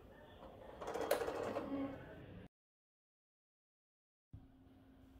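A hand crank turns on an 1897 Payen P3A arithmometer, a mechanical calculator, giving a close, dry mechanical whir and clatter for about two seconds before silence and a faint room tone.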